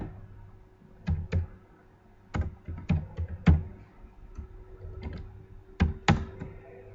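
Computer keyboard typing C program code, sounding as scattered bursts of sharp clicks and key thunks with pauses between, fairly close over a low steady hum, no speech.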